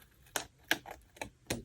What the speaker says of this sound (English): Just clean it up with my scissors.